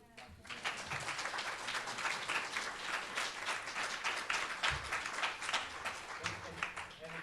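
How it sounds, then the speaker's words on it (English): A room full of people gives a sustained round of applause after a talk on adolescents and vaping, dense steady clapping throughout, with a few low voices murmuring underneath. "A round of applause for Dr."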